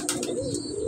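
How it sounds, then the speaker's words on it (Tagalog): A pigeon coos in low, throaty tones, close by, with a few faint higher chirps above it and steady background noise. "Grabe tong kalapati na to."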